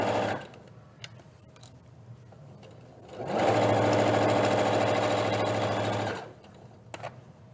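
A sewing machine stitches fabric at a sewing workshop at a maker fair, a steady close mechanical whir lasting about three seconds between quieter stretches with faint handling clicks.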